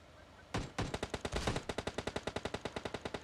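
Rapid automatic gunfire in a shooting video game, a couple of heavy opening shots followed by a fast, even burst of loud cracks firing continuously without pause.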